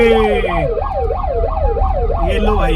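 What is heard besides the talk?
siren on a modified Toyota Fortuner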